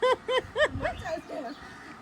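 Harsh crow caws, three sharp calls in quick succession followed by rougher, fading cries, fairly near.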